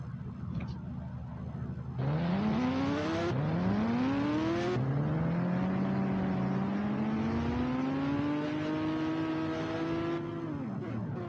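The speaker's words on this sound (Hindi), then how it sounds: "गोस्ट राइडर की बाइक" Ghost Rider's motorbike in a video game revving in repeated rising whines, each throttle sweep climbing in pitch before dropping off, loud and close and alone for several seconds.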